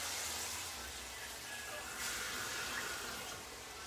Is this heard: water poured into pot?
yes